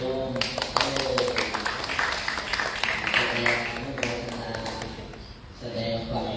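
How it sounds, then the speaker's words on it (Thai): An audience at an evening chanting gathering on a Buddhist holy day applauds, a dense patter of many hands clapping steadily for several seconds before thinning out, fairly close and unaccompanied by talk. "ปรบมือถวาย บูชาธรรมดังๆในโยม"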